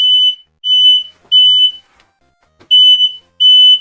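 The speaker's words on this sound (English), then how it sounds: "I didn't even have to touch the smoke detector button" A smoke detector shrills in loud, piercing beeps, five pulses in an uneven rhythm with short silent gaps between them, close and alone.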